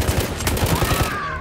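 A quick volley of close gunfire in the World War I shooter Battlefield 1, with several sharp shots in rapid succession over a brief, busy battle background.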